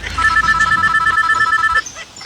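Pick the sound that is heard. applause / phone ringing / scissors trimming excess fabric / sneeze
phone ringing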